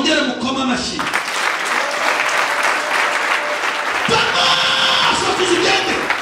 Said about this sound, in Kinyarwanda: Mwongere mukoma amashyi.